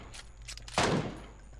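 Gunfire in the mobile battle royale game PUBG Mobile: a single loud burst of shots near the middle, preceded by faint in-game sounds and trailing off into quiet background.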